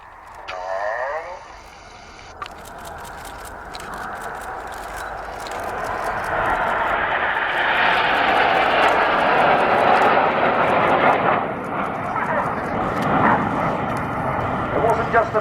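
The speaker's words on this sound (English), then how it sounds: "This is Spitfire." A Supermarine Spitfire fighter flies past at the RIAT 2015 airshow. Its engine roar builds steadily from a distance to a loud, sustained drone overhead. A public-address announcer talks over it near the start.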